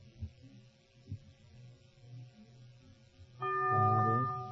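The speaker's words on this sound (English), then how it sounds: "The bell is tolled." A single bell tolls on an old-time radio quiz show, ringing out clearly near the end after a stretch of quiet background hum.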